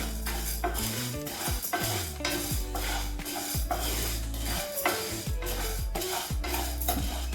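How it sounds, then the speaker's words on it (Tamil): Chana dal dry roasts in a pan over medium heat without oil, a steady rattle and scraping as the spoon stirs the lentils, dense continuous clatter close up. "கடலைப்பருப்பு இது ஒரு 50 கிராம் இருக்குங்க, வறுத்துக்கலாம்"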